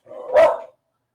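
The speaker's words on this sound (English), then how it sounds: "It's just barking at nothing, of course." A dog gives a single loud, close bark, brief and sharp, standing alone with no talk around it.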